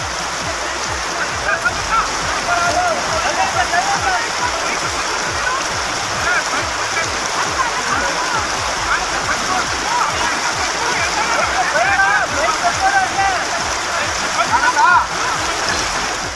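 A fast-flowing stream swollen by heavy rain rushes past in a loud, constant roar of turbulent water that never lets up.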